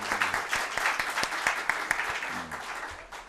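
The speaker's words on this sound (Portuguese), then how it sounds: "Por favor, uma salva de palmas para ele." Audience applause welcoming a speaker at an anti-corruption law lecture, with distinct sharp claps standing out over a moderate, uneven crowd clapping, plus some background tones.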